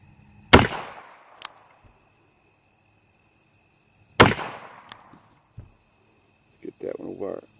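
Two sharp, loud gunshots ring out several seconds apart from a Ruger New Model Single Six revolver firing Winchester Super X semi-jacketed hollow points outdoors, each with a short echoing tail, followed by brief speech near the end.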